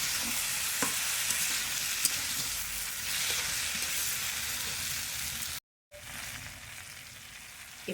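Mustard paste is stir-fried in a pan for a brinjal, potato and chala fish curry, with a loud continuous sizzle and occasional stirring clicks. A brief dropout cuts the sound partway through, and no one speaks.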